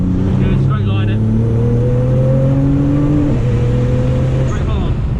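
A Nissan GT-R engine under full throttle during a drift exercise, heard from onboard as a loud, steady rising drone with whining harmonics that climb and dip as the car slides.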